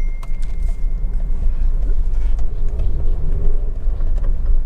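A Honda Civic 1.8 i-VTEC ES five-door drives along, its engine a smooth, steady low rumble mixed with road and tyre noise, heard from inside the car without talk.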